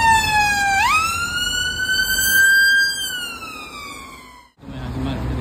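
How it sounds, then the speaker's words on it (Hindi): Ambulance siren on a street in Southall, London, loud and close, with a long wailing tone that sweeps upward and then holds, before a brief dropout and street noise. "देखो ये एम्बुलेंस आ रही है, इसको अपने साइड मिल जाएगी।"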